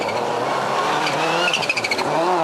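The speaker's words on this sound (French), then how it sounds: "Ici c'est Joa Kankkunen avec l'autre Subaru bien sûr" A Subaru rally car at speed on a special stage of the 1998 Rally of Portugal, its engine roaring loud and close with rapid revving and gear changes across the short pass.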